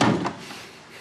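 The bottom drawer of a desk slides open with a short wooden bump and a brief scrape, close and moderately loud.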